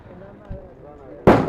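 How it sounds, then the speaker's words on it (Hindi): At a cricket premier league match, a single loud firework blast bursts out near the end after a big shot, following a stretch of background crowd murmur and talk. "जब बड़े शॉट आएंगे, विकेट जाएगी तो इस तरह का धमाका भी होता हुआ नजर आएगा"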